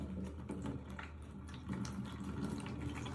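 Liquid being poured carefully during homemade Ormus preparation, a soft, continuous trickling and splashing that stays faint and close throughout.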